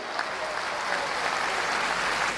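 Audience at a Hindi language conference breaking into loud applause, a dense wash of clapping from a large crowd sustained evenly throughout.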